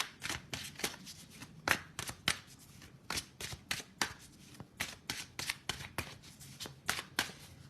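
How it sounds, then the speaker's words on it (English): A deck of oracle cards is shuffled by hand. The riffling comes as close, crisp bursts in a quick, uneven rhythm that keeps going throughout, with no talk over it. "shuffle really nice here"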